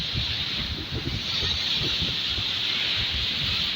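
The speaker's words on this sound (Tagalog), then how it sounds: "Grabe yung hangin ngayon. Sobrang lakas." Strong wind by the sea in Beirut, Lebanon, with big waves, buffets and rushes across the microphone with a constant, loud roar, low gusty rumbles pulsing underneath.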